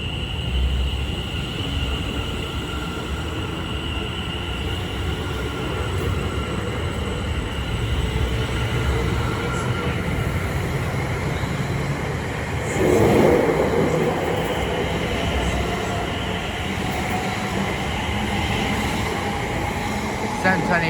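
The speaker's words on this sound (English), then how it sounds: "As off goes the 1636 Greater Anglia service from Colchester Town to London Liverpool Street, 720-521, and its classmate." A Greater Anglia Class 720 electric multiple unit pulls out of Stratford station on the Great Eastern Main Line, bound for London Liverpool Street. Its steady rolling rumble and rail noise carry throughout, swelling briefly partway through.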